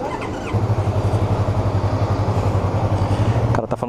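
New Yamaha YZF R3 sport motorcycle engine running near the dealership, a close, steady pulsing idle drone with a regular throbbing rhythm, fairly loud and heard alone before a brief disturbance at the end.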